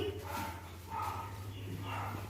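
A dog guarding a village home barks faintly in the distance, three spaced woofs over a steady low hum.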